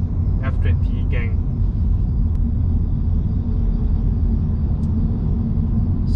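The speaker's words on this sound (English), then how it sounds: "this S2 is a lot quiet than my MC6, especially on different type of tar road" Steady low rumble of Giti GitiSport S2 tires rolling on a tar road inside a moving BMW F20 hatchback, a continuous muffled road drone, with a few brief faint clicks near the start.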